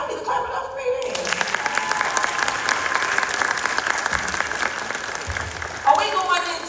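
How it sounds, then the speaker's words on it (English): Dense audience clapping fills most of the stretch, a bright continuous patter that starts after a brief spoken moment and fades as a voice returns at the end. "y'all need to clap it up for me then."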